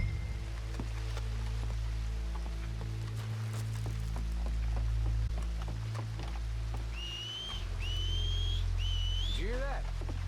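In the video game Red Dead Redemption 2, a character whistles three rising notes, clear and fairly close, over rain patter and the low sounds of the game.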